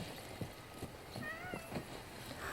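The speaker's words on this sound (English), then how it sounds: "It's the kitty." A cat meows a couple of times, thin rising cries over a low background with soft thumps and faint shuffling.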